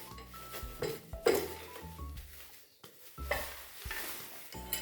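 A non-stick pan and its lid handled with clinks and scrapes, a few sharp metallic knocks standing out over a quiet room, up close and at moderate loudness.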